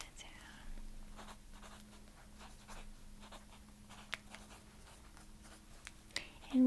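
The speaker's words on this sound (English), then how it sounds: "Okay, let me write that down." Pen or pencil scratching across paper while an order is jotted down during soft-spoken restaurant-style service, faint and close with light whispering around it.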